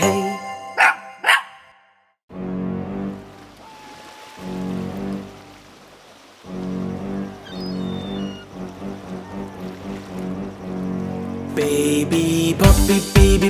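Puppy barks in a children's song come as sharp yips at the start and again at the end, around a stretch of steady musical tones.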